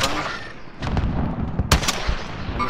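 A .50 cal rifle shot in Call of Duty: Modern Warfare lands as a sharp, loud crack around the middle, followed by a second report and a booming echo over a low rumble of game ambience.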